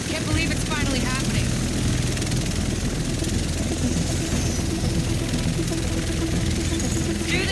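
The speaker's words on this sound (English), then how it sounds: "The rest of us should be in this chopper." A helicopter in the Tom Clancy's The Division video game roars with a steady, loud, dense rotor and engine wash that fills the whole stretch, constant and close without letting up.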